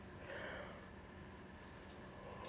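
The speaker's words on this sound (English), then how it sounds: "signature yawn." A person's yawn, a faint, drawn-out breathy exhale rising and settling, heard alone against a quiet indoor background.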